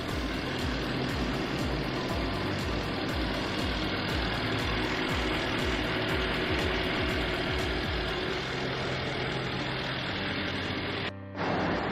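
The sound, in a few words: Bentley Bentayga engine idling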